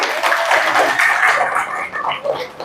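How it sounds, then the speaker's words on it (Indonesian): Classroom applause for a student group after their presentation, a dense, steady patter of many hands clapping at moderate loudness for a few seconds. "Beri tepuk tangan untuk kelompok 4"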